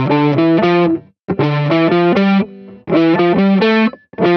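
Distorted electric guitar plays a scale in fourths, paired notes stepping along in quick even groups across three bursts with short gaps, loud and close with no talking.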